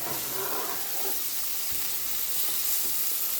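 Chicken bhuna with chopped green chilies sizzles in a pan while being stirred, a dense, even hiss with soft scraping and shuffling underneath, fairly quiet and steady, no speech.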